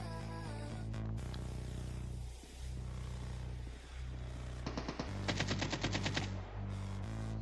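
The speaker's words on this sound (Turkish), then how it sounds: "Nereye atış ediyorsun kanka sen?" Rapid automatic gunfire from a shooter video game, loud and close, with a sustained rattling burst of many shots near the end over a steady low droning background.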